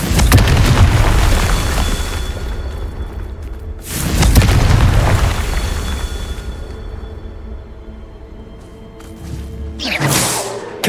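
Confringo fire spell from Hogwarts Legacy erupting in loud, heavy blasts, a booming burst at the start and another around four seconds, with rumbling fire and debris between and a smaller crack near the end.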